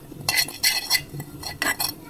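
Dry coconut powder being stirred in a pan gives a few quick, close scraping strokes of a utensil against metal, coming in short rhythmic bursts.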